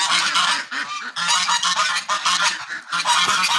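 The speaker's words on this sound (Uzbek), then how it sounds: "mana shunaqa baland ovozda g'aqillagan ovoz chiqarar ekan" An Agidel duck, separated from its flock, quacks loudly and insistently in a rapid run of harsh, honking calls, close by and with no talking.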